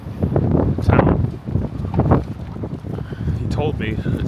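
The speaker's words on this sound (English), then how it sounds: "It is very windy." Strong wind buffets the microphone outdoors on a blustery day in gusty surges, loud and close, while a person talks over it.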